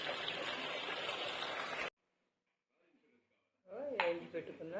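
Gongura (sorrel) leaves are washed in a perforated colander, giving a steady rush of running water, then silence, then faint clinks and talk as the washing resumes.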